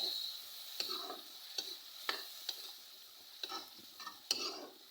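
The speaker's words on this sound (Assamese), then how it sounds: "মই মানে চব আগতে ভাজি লওঁ, তাৰপিছতে মাছখিনি দিম" Green chilies and garlic fry in a blackened wok more than twenty years old, giving a soft, close sizzle. A utensil scrapes and clicks against the metal in irregular taps as the pieces are stirred, and no one speaks.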